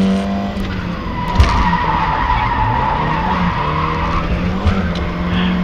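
Rally car skidding through a special stage gymkhana section between cones at Express Specialen 2014, engine wailing steadily with tire squeal and sliding noise, loud and close throughout, with a brief thump midway.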